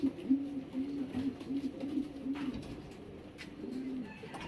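Champion-bred pigeons at a breeding loft coo in repeated low, rolling phrases, fairly close and continuous, with faint background rustles and distant noises.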